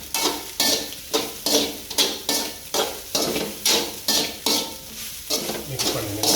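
Spatula stirring and tossing vegetable fried rice with homemade masala in a hot pan, a regular rhythm of about ten scraping, sizzling strokes close up, no voices.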